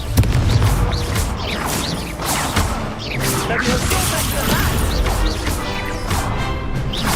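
Fiery Confringo spell blasts in Hogwarts Legacy combat come as loud, close bursts and crashing impacts, tumbling one after another in a dense, chaotic flurry that never lets up.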